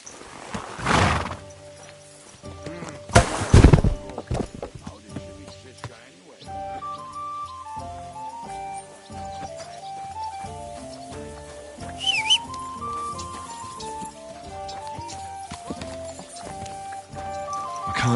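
Horse riding in Kingdom Come: Deliverance 2, with steady clip-clop hooves and a loud neigh near the start, all under game music with a few brief voices.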